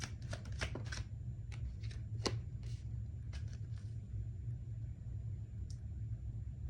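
A deck of tarot cards is shuffled in a quick burst of crisp riffles and flutters early on, then a few scattered flicks, all over a steady low rumble.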